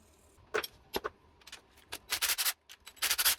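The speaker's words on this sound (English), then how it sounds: "Very gently trying to get all the gasket off." Old gasket is scraped off the engine block of a wrecked Honda CBR600RR during a motor rebuild, heard as close, irregular bursts of scratchy rasping that build into longer strokes near the end.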